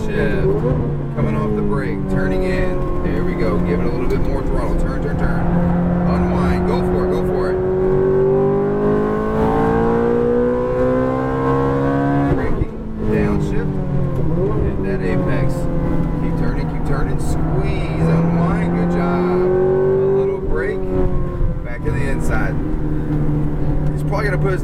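A Ferrari F430 is driven hard on a race track, its engine revving loudly and climbing through rising and falling pitches across gear changes. A driving coach talks over it throughout.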